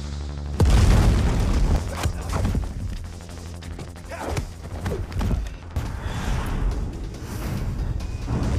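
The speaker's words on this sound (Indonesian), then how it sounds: "Soju sendiri masih di lantai atas dan melemparkan bom untuk mencegah para Sandra." A heavy bomb blast from an Indian action film hostage-rescue scene booms out suddenly, followed by rumbling crashes, debris and scattered impacts that continue through the rest of the scene with dramatic sound design.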